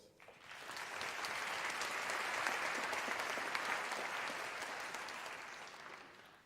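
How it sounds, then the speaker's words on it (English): A graduation ceremony audience applauds at a university, a broad even wash of many hands clapping that swells, sustains for several seconds and eases off, somewhat distant in a large hall. "let's give them a round of applause"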